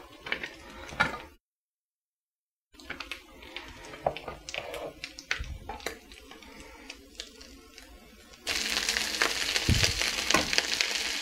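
Rice sizzles and fries in melted butter in a pan, with scattered clinks and stirring scrapes, then a louder, steady sizzle at close range.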